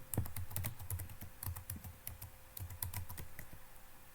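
Fingers type a username on a computer keyboard in quick irregular bursts of crisp, close clicks, with short pauses between runs of keystrokes and no talking.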